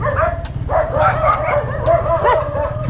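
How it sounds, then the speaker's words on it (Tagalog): Several dogs barking and yipping close by, overlapping high calls over a low rumbling background, continuing throughout. "Daming aso ah."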